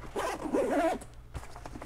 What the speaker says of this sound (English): And then if we zip this back up